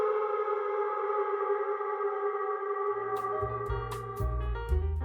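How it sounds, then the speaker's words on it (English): Manipulated howling sound effects from Freesound user Nature's Temper, in an open-world game score, form a steady, droning, heavily processed tone; about three seconds in, a deep rumbling low layer and scattered crackling bursts join it. "There are also occasionally manipulated howling sounds from Freesound user Nature's Temper."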